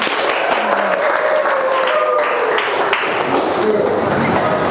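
Applause from a classroom audience during a school teaching session, continuous clapping from a group of people with faint voices and tonal sounds mixed in, steady and fairly loud throughout.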